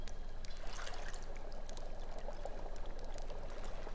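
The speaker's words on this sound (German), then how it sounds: "Aber coole Wassereffekte." Water pours and trickles into a cauldron in the VR wizard game Waltz of the Wizard, a soft continuous splashing stream with small bright drips, faint and without talk.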